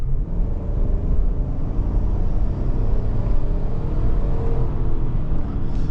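A 2026 Chevy Tahoe Z71 SUV drives in sport mode, its engine a loud, steady low rumble with road noise that holds throughout without voices.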